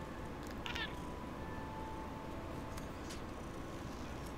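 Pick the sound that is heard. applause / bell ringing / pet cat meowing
pet cat meowing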